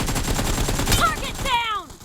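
Gunfire rattles in the PUBG Mobile shooter video game: rapid repeated shots crack close and loud, followed by a few whistling, descending tones as the burst ends.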